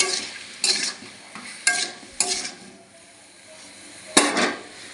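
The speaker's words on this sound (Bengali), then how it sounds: "এবার একটু নুন দিয়ে দেব যাতে টমেটোটা তাড়াতাড়ি গলে যায় নুন দিয়ে দিলাম নুন দিয়ে দিচ্ছি এবার ভালো করে নাড়িয়ে দিই" Tomatoes with salt cooking in a pan for chutney, stirred in several distinct scraping strokes with light clatter over a low, steady sizzle.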